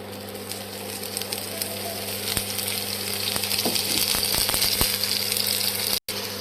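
Small pieces of spinach and wheat flour dough frying in a little oil, giving a steady sizzle with scattered clicks and scrapes as they are turned over, heard close under a faint low hum.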